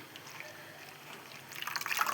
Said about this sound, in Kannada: ಬಿಸಿ ನೀರು ಹಾಕಿ